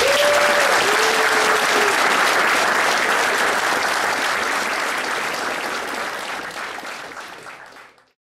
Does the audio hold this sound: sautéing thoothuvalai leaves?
no